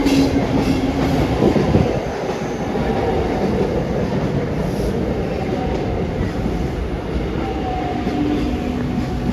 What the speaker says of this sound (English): we could hear and see the train barreling toward the station